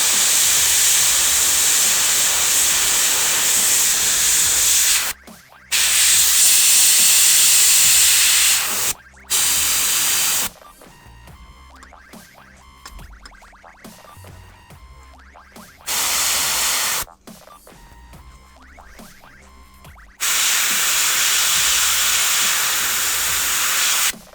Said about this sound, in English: now that I've got my Vallejo Model Air Signal Blue loaded into my airbrush